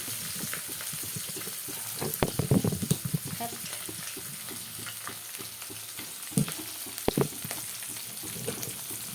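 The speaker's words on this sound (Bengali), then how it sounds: "তো আমি কম তেলেই মাছগুলোকে ভেজে নেব।" Small pieces of hilsa fish fry in a little oil, a steady broadband sizzle with bursts of louder crackle and spatter around the middle and near the end, close and without talk.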